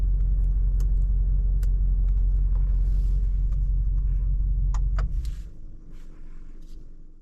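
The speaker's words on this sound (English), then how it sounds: "Now let's take the G63 on the road." A 2023 Mercedes-AMG G63 SUV with a V8 engine cruising on a road in Kerala traffic, a steady loud low rumble from the cabin that eases off and quietens slightly toward the end, with no talk.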